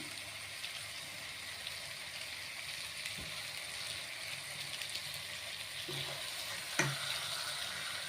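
Chicken with masala and ginger-garlic paste frying in a pot for biryani gives a steady, even sizzle close up, with a few sharp clinks of a utensil against the pot near the end.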